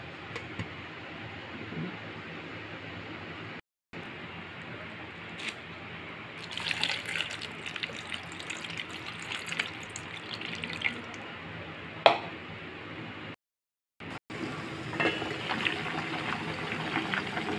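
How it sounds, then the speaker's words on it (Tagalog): Water bubbling at a steady boil in a pot of corn, a continuous hiss with small pops and gurgles, close by, with a couple of brief gaps. "kumukulo na yung aking corn"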